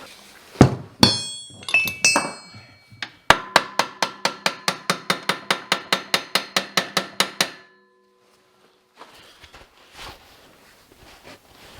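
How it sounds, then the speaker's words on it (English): Hammer tapping a pry bar to seat a bearing in a Polaris P85 primary clutch being fitted to a Gen 4 Ski-Doo 850 snowmobile: a steady run of about twenty sharp metallic clinks at even pace, close and loud, after a few irregular knocks, then quiet shuffling. "I come in here with a hammer, I hit the back side, just kind of press in."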